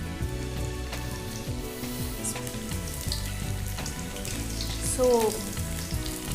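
Pieces deep-frying in hot oil on a TV cooking show, a steady crackling sizzle running throughout with faint stirring, and a brief spoken word near the end.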